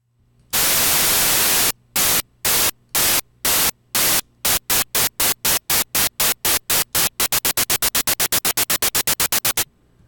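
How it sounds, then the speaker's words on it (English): White noise chopped by the stock Pro Tools filter gate plugin cuts on and off in hard-edged bursts that speed up from slow chunks into a rapid stutter, loud and isolated. "this is the filter gate plugin that comes stock with Pro Tools."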